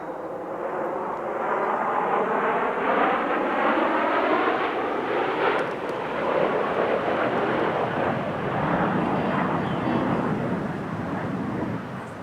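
Thunderbirds F-16 jets flying the five-ship Card formation at the California International Airshow, a loud, sustained roar that swells and holds steady for the whole stretch, with no voices.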